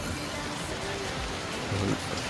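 Heavy rain during a typhoon in Tuguegarao pours down in a dense, constant wash of hiss and patter with no letup, fairly loud throughout, with faint background voices.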